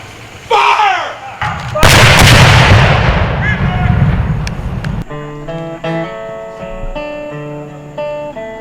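A single loud ceremonial artillery cannon blast fires at a Confederate monument rededication in Hanover, Virginia, followed by a long rumbling decay. A voice is heard before the shot, and singing begins afterward.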